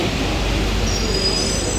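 A Paris metro train pulls into the station with a loud, steady rumble of wheels and motors, joined by a thin high squeal near the end.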